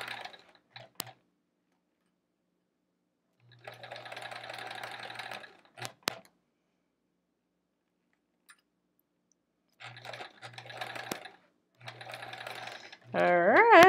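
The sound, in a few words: sewing machine stitching a quilt row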